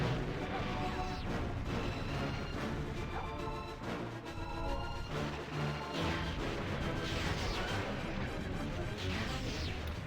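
Rockets explode in Jet Force Gemini amid a dense, continuous barrage of crashing blasts and booms, loud and chaotic, layered with constant game noise.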